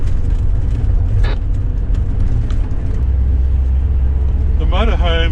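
A motorhome with a Trimatic gearbox cruises along a road near Toowoomba, giving a steady, close engine and road rumble with a brief whine partway through, and a voice speaks over it.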